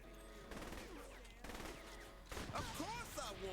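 Bursts of rapid gunfire crackle through a shooter video game, coming in short volleys against a busy background of game sounds and voices.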